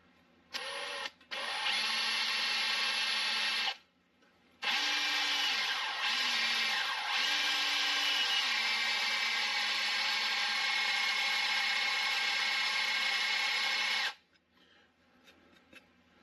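A steady, loud power drill whines into the cracked metal engine block of a 1930 Ford Model A for about ten seconds, with a short pause near the start and a brief stop partway through.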